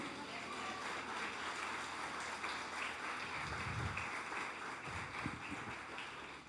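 Faint, distant applause from a church congregation during a worship service, a soft, continuous patter of clapping with a few low thumps underneath.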